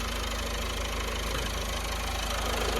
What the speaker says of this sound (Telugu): ఇంజన్ కూడా స్మూత్గా ఉంది. చిన్న నాయిస్ కూడా లేదు